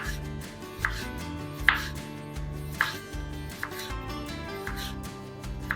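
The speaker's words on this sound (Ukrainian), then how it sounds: "Беремо часничок. Так, це відкинемо. Нарізаємо тоненько пластинками." A knife thinly slices garlic cloves into flat pieces for a pickling marinade for salt pork, making crisp cuts against a board at an unhurried, fairly even pace, about five distinct chops close up with music playing underneath.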